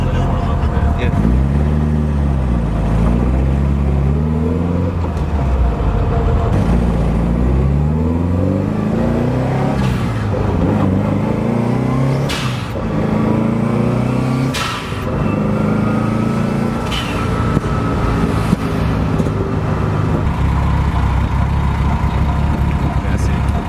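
A Subaru STI engine with a rebuilt short block warming up, its exhaust rumble rising and falling through repeated revs, loud and close, while people talk over it.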